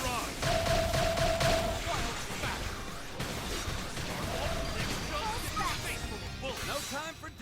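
Beam barrage attack in Xenoblade Chronicles X: a dense rapid-fire volley of energy bursts and impacts mixed with game effects, heavy and continuous, with a player talking over it.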